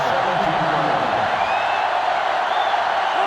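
Steady roar of a packed stadium crowd cheering at a Michigan vs. Ohio State game in NCAA Football 2005, a dense continuous wash of noise with faint whistles and whoops rising above it.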